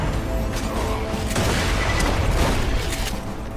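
Dense, continuous gunfire and booming blasts fill a co-op match of Borderlands 2, loud and relentless from start to finish with overlapping shots and explosions and no pause between bursts.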